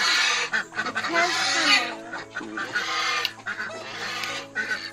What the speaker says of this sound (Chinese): 是每次有看到，但是这一种的火鸡还是第一次看到的，很特别啊！